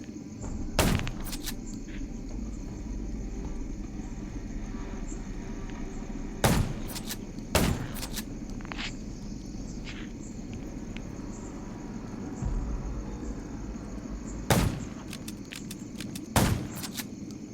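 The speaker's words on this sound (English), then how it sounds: "Gunshots will attract more zombies." Gunfire in the zombie survival video game Undawn comes as a series of sharp, isolated shots, about eight cracks spaced irregularly, over a steady insect-like ambient drone with no talking.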